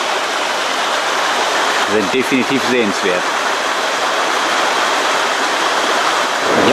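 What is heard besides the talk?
small mountain streams flowing beside a path in Norway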